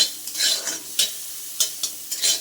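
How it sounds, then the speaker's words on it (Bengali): Onion and green chili frying in a pan with curry leaves, a bright sizzling hiss broken by several distinct stirring scrapes, close and loud with no voices. "ওই যে কাঁচা পেঁয়াজের লঙ্কা দিয়ে দিলাম এটা ভালো করে সুন্দর করে ভেজে নিতে হবে"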